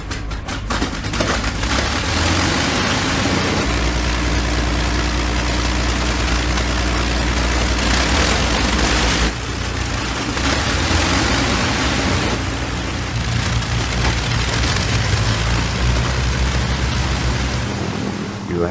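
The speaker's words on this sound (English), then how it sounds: "once you had them synchronized, they just purred. Music to the ears. The sound of four Merlins" Four Rolls-Royce Merlin engines on a B-17 Flying Fortress run together in a loud, continuous drone with a deep steady hum underneath, swelling slightly at moments, no talk over it.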